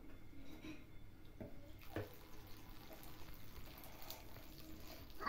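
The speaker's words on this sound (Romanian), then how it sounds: "Și după ce umpli mănușa cu apă" Water runs steadily into a rubber glove being filled, a continuous gurgling trickle close by with small splashes and no talk over it.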